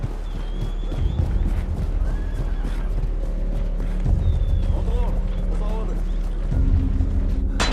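Horses neigh and whinny over hooves clip-clopping during a film battle scene between Mongol horsemen and defenders, with loud, dense layered crowd noise and voices throughout.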